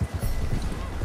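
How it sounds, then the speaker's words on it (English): Horse hooves clip-clop steadily in Red Dead Redemption 2, a close, regular rhythm of in-game footfalls with a voice talking over them. "My bonding with my horse is increased."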